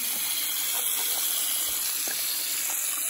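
Cold water running steadily from a bathroom sink tap, a constant even hissing gush with no pauses; no voices.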